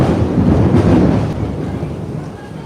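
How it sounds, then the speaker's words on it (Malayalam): Thunder rumbles through steady heavy rain, a loud, low, rolling roar that peaks early and then eases into a softer continuous downpour. "നല്ല ഇടി നല്ല മഴ"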